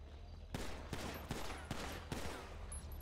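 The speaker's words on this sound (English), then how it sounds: "Go ahead and shoot your 5 rounds, please." Five gunshots ring out one after another from a firearm in a video game, evenly spaced sharp cracks over a steady background hum.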